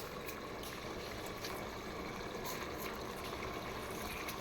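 Rice tipped into a pot of simmering mutton biryani masala gives a steady, close wash of sizzling, bubbling liquid with scattered small splashes and patters throughout.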